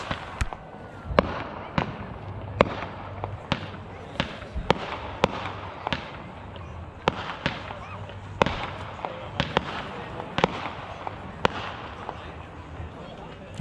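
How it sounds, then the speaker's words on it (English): Fireworks burst at dusk at an outdoor bus festival, a series of sharp cracks and pops at irregular intervals, some close and loud, others fainter, over a low background murmur. "We got more fireworks."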